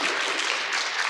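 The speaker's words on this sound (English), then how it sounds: "You can clap." An audience at a fireside chat event applauds, a steady, dense wash of clapping that fills the short moment from start to finish without any talk over it.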